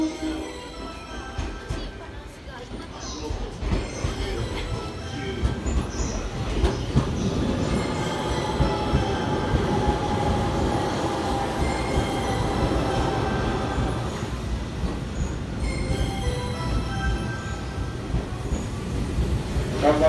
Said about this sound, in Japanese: 回送電車到着中でございます。